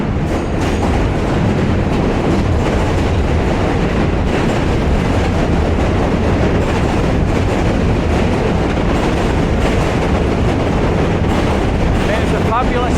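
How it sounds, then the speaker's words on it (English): Subway train crossing the Manhattan Bridge toward Manhattan, heard from the bridge walkway as a loud, continuous roar of wheels and rattling cars that fills the whole stretch, with steady clatter close by. "Subway train coming over, heading into Manhattan."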